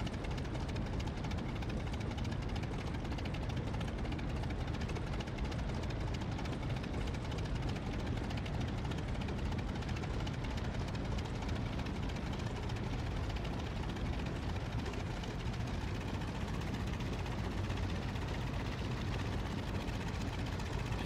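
Aircraft engine droning at takeoff in the Flying Circus game, a steady low rumbling roar that holds at an even level throughout, with no talk.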